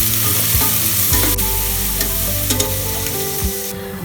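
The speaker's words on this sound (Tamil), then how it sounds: "ஒரு 2லேருந்து 3 நிமிஷத்துக்கு நல்லா வதக்கிக்கலாம்." Onion, half a tomato, curry leaves and green chilli sizzle and fry in a pan for mochai kulambu, a steady crackling hiss with occasional stirring scrapes throughout.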